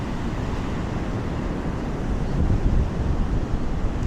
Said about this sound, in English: The waves are strong